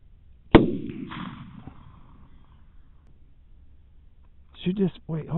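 A single sharp rifle-type gunshot aimed at a wild hog during a hunt cracks out loud and close, its rumble decaying over a second, with voices talking shortly afterward.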